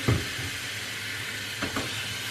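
Chopped onion sautéing in butter and a spoonful of oil gives a soft, steady sizzle, with a couple of brief scraping stirs in the pan.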